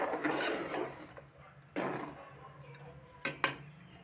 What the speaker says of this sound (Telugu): ఇందులో చేపలు వేసుకోవాలి. అన్నీ కలబెట్టుకోవాలి.